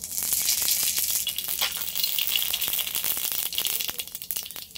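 Radhuni seeds dropped into hot oil as a tempering, giving a dense, loud, continuous sizzle with fast crackling pops, close up.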